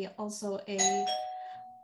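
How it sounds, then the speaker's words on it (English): A home doorbell chimes with several bright, ringing ding-dong tones that fade out, heard over a person speaking. "sorry. That was my doorbell."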